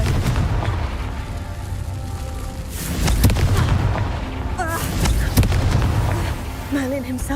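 Confringo fire spell explosions in the video game Hogwarts Legacy, several booming blasts over a busy game soundscape, with music and spoken voices in between.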